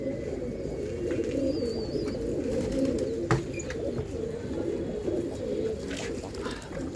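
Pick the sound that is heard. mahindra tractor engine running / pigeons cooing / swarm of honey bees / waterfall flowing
pigeons cooing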